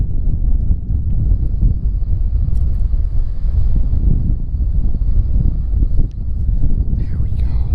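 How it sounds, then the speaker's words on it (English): Wind gusts buffet a fishing boat out on Lake Oneida, a steady loud rumble of wind noise across the microphone with faint water movement beneath. "our wind picked back up"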